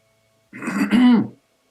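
A single person clears their throat once, close and distinct, a short rough rumbling burst lasting under a second against silence.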